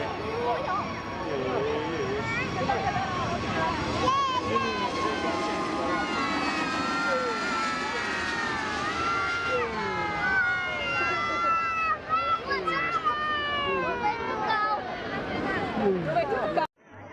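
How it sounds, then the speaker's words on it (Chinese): An airliner taking off from Yulin airport in front of a large crowd, a loud sustained engine roar with whining tones sweeping up and down throughout, steady until cutting off at the end. "现在飞机呢也完全起飞了"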